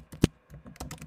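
A computer keyboard is typed on while writing C# code: a brief burst of a few close, quiet key clicks, one sharper tap among them.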